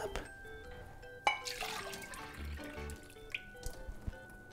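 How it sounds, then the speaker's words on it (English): Vegan matcha latte poured into a cup, a faint liquid trickle with soft drips and a few light clinks of the cup, quiet and close. "let's pour this into a cup"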